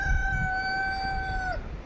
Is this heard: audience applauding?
no